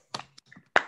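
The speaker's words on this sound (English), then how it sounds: "So everyone can open their mics up and clap" Participants in an online meeting clapping with open microphones, a few sparse, separate claps and taps coming through thin and uneven, with short silences between them.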